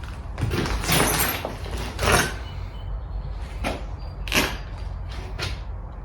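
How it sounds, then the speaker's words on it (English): Old beadboard doors in an abandoned, vandalized house are opened, giving several creaks and knocks with clunks of the wooden panels and scraping between them, fairly close. "Nice beadboard doors there."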